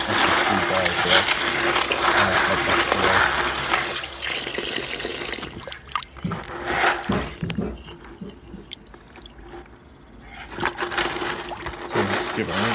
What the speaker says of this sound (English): take the bucket, just run first tap water through